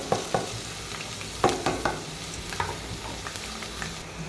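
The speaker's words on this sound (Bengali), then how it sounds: "তেল তেপে গেছে, এরপরে এই যে ফ্রোজেন করা পেঁয়াজ আর মরিচ দিয়ে দিলাম।" Frozen chopped onion and chili hitting hot oil in a pan, a close sizzle with several sharp crackling bursts and stirring scrapes, settling into a steadier fry.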